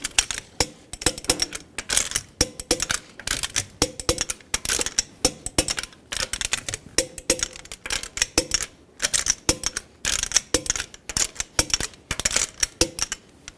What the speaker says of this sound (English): Torque the lug nuts in a star pattern to 76 foot-pounds.